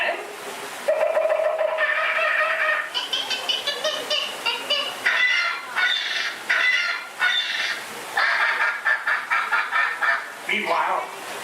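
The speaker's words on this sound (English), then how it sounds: "the treetops explode in a frenzy of outraged birds" A frenzy of outraged birds in a Disney theme park ride show, loud overlapping honking and squawking calls that burst out and continue in rapid, uneven volleys.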